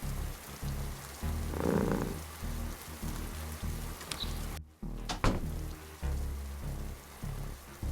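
Heavy rain pouring in a video game, a steady wash of rainfall on surfaces with a few brief knocks and one sharp crack partway through, under a low background hum.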